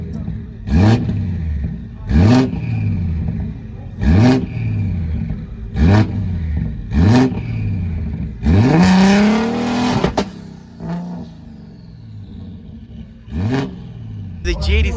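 A tuned Porsche 911 Turbo S revving at an auto expo, loud and close, in a series of short sharp bursts followed by one longer rising rev before the engine settles back to idle.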